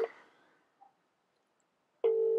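A phone call tone sounds on a mobile line, a steady tone bursting in near the end after a short tonal blip, with the line otherwise quiet.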